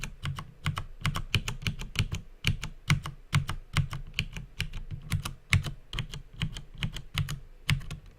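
A computer keyboard is typed on in quick, uneven bursts of crisp clicks, close and clear, with no talking.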